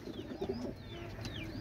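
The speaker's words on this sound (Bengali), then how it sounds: "এটা হচ্ছে খুলনার বিখ্যাত গলায় লাল কবুতর।" A red-necked pigeon from Khulna gives a soft, low cooing call close by, a brief murmuring burst over faint background noise.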